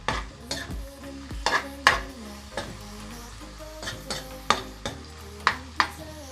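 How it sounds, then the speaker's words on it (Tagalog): Onion and garlic sautéing in a pan for upgraded Lucky Me pansit canton with oyster sauce, with loud metallic scrapes and knocks of a spatula stirring at irregular intervals over a low sizzle, close up. "Isunod na agad natin ang ating sibuyas."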